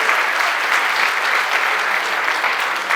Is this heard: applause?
yes